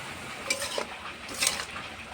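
A spoon stirs sugar into a Bengali stem vegetable chachchari in a pan, giving a few light scraping clinks against the metal over a soft sizzle.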